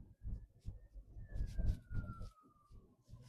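A police siren passes outside a moving Abarth 500 T-Jet on a rough road, its steady wail sliding slowly downward in pitch as it goes by, heard over the car's low road and engine rumble.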